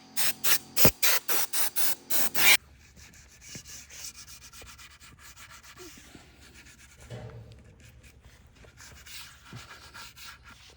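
A wooden table puck is sanded to a chamfered edge, opening with rapid loud rhythmic strokes and then settling into quieter, irregular rubbing at close range, with no voices.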